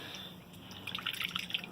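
Fish are released into treated water, producing a soft dripping and splashing patter close by that grows busier toward the end, over a faint steady background hiss.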